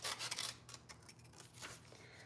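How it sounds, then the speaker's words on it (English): Scissors cutting paper into strips, a series of quiet, close snipping and rustling sounds in an otherwise still room. "So I'm just cutting them into strips"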